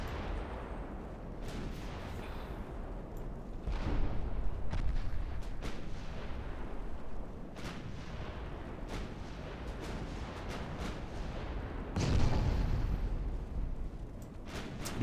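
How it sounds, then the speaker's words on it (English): Battleship main and secondary guns fire in naval combat in Ultimate Admiral Dreadnoughts, heavy booming salvos rolling over a constant rumble, with louder bursts near four and twelve seconds and sharper shots scattered between. "Main gun, secondary gun, main gun, secondary gun, main gun, secondary gun."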